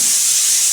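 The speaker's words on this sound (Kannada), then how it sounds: "ಈ ಕಡೆ ಕುಕ್ಕರ್ ವಿಷಲ್ ಆಯಿತು" A pressure cooker lets off a loud, steady hiss of escaping steam, a brief continuous whistle close by with no talking over it.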